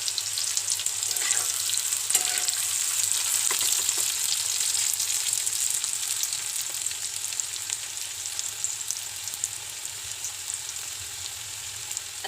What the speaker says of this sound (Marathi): भाजी ह्याच्यामध्ये भाजायची मस्तपैकी.